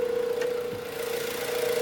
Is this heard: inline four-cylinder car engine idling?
yes